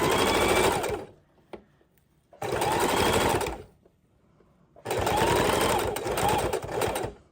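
A sewing machine stitches lace trim onto a junk journal cover in three loud, close bursts of rapid whirring, with short quiet pauses between them.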